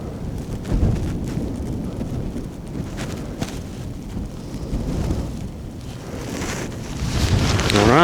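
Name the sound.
high wind blowing at winter campsite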